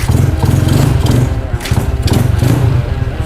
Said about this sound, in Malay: Tapi renjan dulu motor ni, kasih puas dulu,